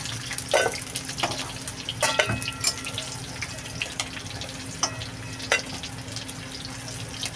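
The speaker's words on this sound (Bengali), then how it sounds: "দেখো মাছ ভাজাগুলো হয়ে গেছে এবার আমি মাছ ভাজাগুলো সব তুলে নেবো" Rohu fish pieces frying in oil and being lifted out, a low steady sizzle broken by several sharp clinks and scrapes of a utensil at irregular intervals.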